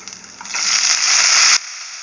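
Curry leaves dropped into a hot pan for a karuvepilai thuvaiyal, giving a loud, close, hissing sizzle that swells for about a second and then falls back to a quieter crackle.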